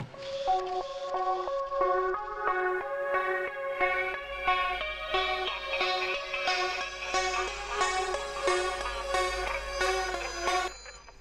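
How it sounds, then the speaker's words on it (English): Beeping Tamagotchi and Furby sound effects run through delay and reverb in a vaporwave production, a steady stream of bright chirping tones repeating rhythmically over a low background hum, moderately quiet with no speech. "Also got some Tamagotchi sounds here and some more Furby sounds"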